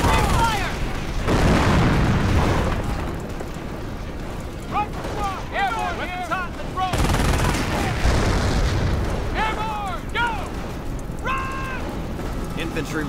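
Sustained gunfire and explosions from the Company of Heroes video game roar loudly and almost continuously, with shouted soldier voices breaking through the din at intervals.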